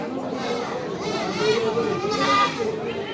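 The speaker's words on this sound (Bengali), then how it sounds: "অনেকগুলো ছাগল" At a rural goat market, goat bleats mix with crowd chatter and children's voices, a few wavering calls standing out over the constant background talk.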